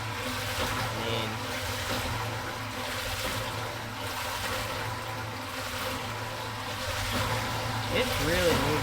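Water churns steadily inside a NorthStar 31-gallon sprayer tank as a pump-driven agitator circulates it, a constant close sloshing rush over a low motor hum, with someone talking over it.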